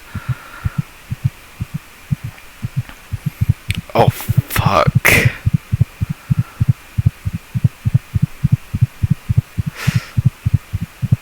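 A fast, steady heartbeat from the game Doctor Nowhere thumps low and even for the whole stretch, with a person's brief startled exclamation breaking in over it partway through.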